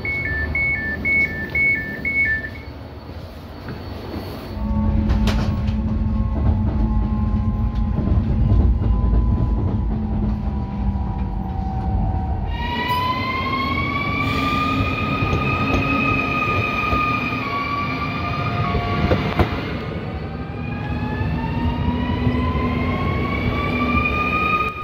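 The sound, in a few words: riding in a train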